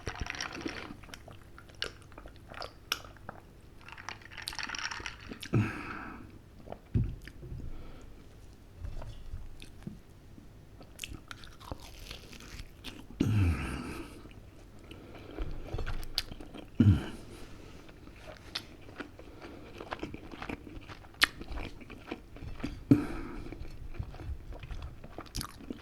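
Close-up eating of sausages in batter: repeated soft bites followed by long stretches of wet, squelchy chewing and occasional crunches, quiet and intimate with no speech.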